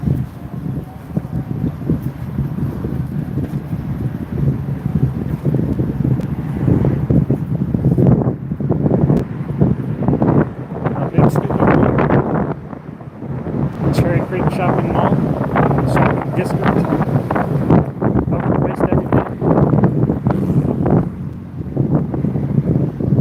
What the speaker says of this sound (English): Back up into the wind.